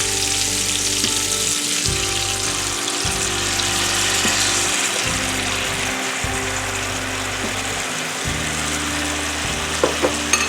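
Salmon pan-searing in olive oil with salt and pepper, a loud continuous frying sizzle heard up close, with a faint low hum and a couple of light clicks near the end, no talking.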